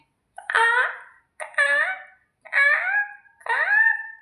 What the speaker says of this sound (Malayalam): ആ കാക്ക വന്ന കരയുന്നേ